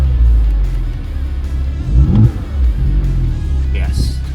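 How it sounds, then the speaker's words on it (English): A 2008 Porsche Boxster RS60 Spyder's exhaust rumbles low and throaty, swelling briefly as the engine is revved around the midpoint, with someone talking over the engine noise throughout. "you can hear the difference. The exhaust note."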